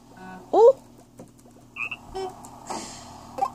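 Frog croaks from the Crossy Road video game, a few short clicky bursts and chirps scattered over a few seconds, fairly close and clear with no talking.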